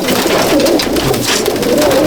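A purchased pigeon brought from Dubai coos loudly and close in a top-quality loft at Mominpur, its rolling low calls repeating continuously over a dense, noisy backdrop.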